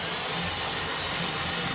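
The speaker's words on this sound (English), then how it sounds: "I'm just gonna ream the hole out a little bit, and that just means getting the drill in there" A drill reams out a hole in pallet wood, giving a steady, even whirring grind that runs unbroken at moderate-low volume with no talking.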